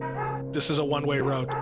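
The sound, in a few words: dogs barking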